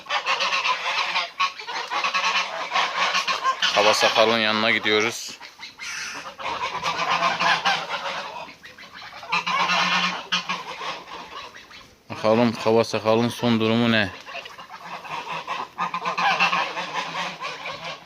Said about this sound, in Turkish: Kazlar bizi kapıda karşıladılar